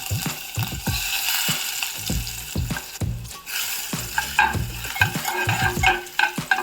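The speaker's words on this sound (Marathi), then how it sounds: "तर इथे आपल्या कढईमध्ये तेल झालेलं आहे गरम. तेलामध्ये आपण थोडंसं जिरं टाकूयात." Cumin and crushed garlic fry in hot oil in a wok with a steady sizzle. A utensil stirs and scrapes against the pan in repeated close strokes, with no talking.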